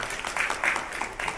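An audience claps at a welcome ceremony in Rishikesh, Uttarakhand, a brief steady patter of applause from many hands at moderate distance.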